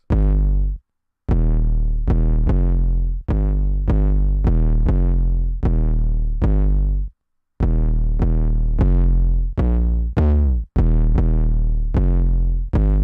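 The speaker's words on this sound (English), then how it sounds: "So it's a little catchy 808 melody." A catchy 808 bass melody programmed in FL Studio for a type beat, with booming, sliding sub-bass notes in a bouncy rhythm and short gaps between phrases, played alone and loud.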